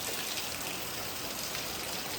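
Heavy monsoon rain falls as a dense, even hiss with no breaks, steady and unbroken from start to finish.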